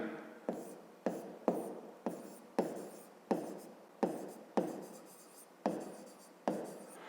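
Pen strokes writing out a fifth-grade math exercise by hand on paper, a steady run of about a dozen short scratching strokes, close and fairly quiet, with no talking.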